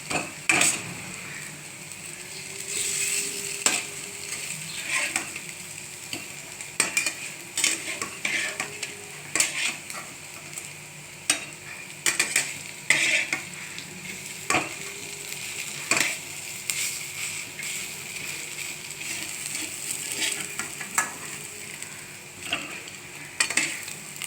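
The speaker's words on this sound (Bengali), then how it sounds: "দেখুন একটু ভালো করে এগুলো ভাজতে হয়, তবে মজমসে হবে" Chhana fritters (bora) deep-frying in oil, a constant close sizzle broken by frequent metallic clicks and scrapes of a spatula against the pan.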